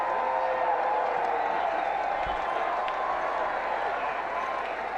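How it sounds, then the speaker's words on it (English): A huge, animated crowd of over 100,000 at Flemington racecourse on Melbourne Cup day just before the race start, a steady, dense roar of cheering and chatter that fills the whole stretch without letup, with a commentator's voice under it. "Very animated crowd with us today"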